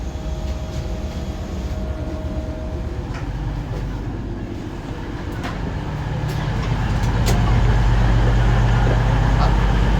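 A train at Oxford railway station rumbles steadily as passengers step off, its low drone swelling louder toward the end amid faint background voices.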